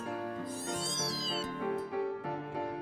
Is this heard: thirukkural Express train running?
no